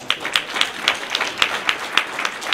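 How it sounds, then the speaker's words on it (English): Clapping at the Urban League of Northwest Indiana's scholastic achievement awards luncheon, with sharp claps falling in a fairly even, regular rhythm, moderately loud and close. "another round of applause."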